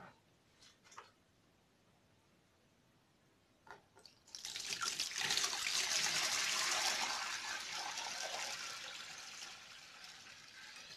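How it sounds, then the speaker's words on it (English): After a few soft knocks, water is poured off settled ogi (pap) in a steady splashing gush that gradually thins toward the end. "So I'm going to be pouring the water away now."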